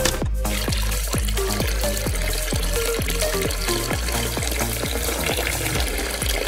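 Liquid, presumably ketchup, flows steadily from the tap of a handmade cardboard dispenser, a continuous close trickle with a faint pulsing rhythm and no talk.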